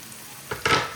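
Beef and tomatoes frying in a pan, quiet at first, then a short sizzle and a louder, broad hiss of frying near the end, with no talk.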